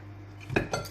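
Two quick, crisp taps of crunchy fried fritters landing on a plate, close by, with quiet room hum around them.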